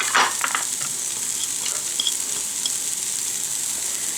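Garlic goes into a hot pot of browning turkey chili base and sizzles steadily, a broad crackling hiss that holds at an even level with a brief burst of stirring at the start.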